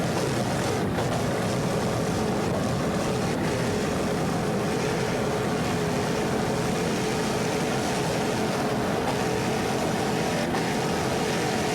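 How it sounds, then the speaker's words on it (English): A 38-foot Fountain powerboat with twin 500 hp Vortec inboard engines roars steadily at speed, a loud, unbroken engine drone mixed with rushing wind and water throughout. "This Pier 57 is a 38-foot fountain powered by two 500 horsepower Vortec inboards."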